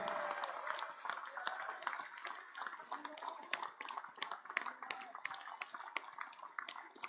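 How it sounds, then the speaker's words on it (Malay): A hall full of delegates at the UMNO Youth general assembly gives a standing ovation to the outgoing Youth chief, a dense, steady roar of clapping for several seconds with crisp individual claps standing out and a faint murmur of voices beneath. "saya ajak kita semua bangun bagi tepukan gemuruh"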